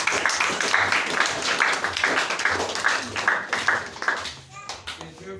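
A church congregation applauds and cheers after a call to clap loudly, dense clapping sustained for several seconds and fading near the end.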